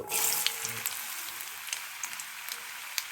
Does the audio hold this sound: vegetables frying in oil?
yes